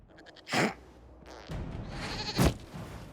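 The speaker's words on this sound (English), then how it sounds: "we discovered this man attacking the building with a goat" A goat in the fantasy video game Dragon Age Inquisition gives two short, harsh bleats about two seconds apart, close and fairly loud over a quiet background.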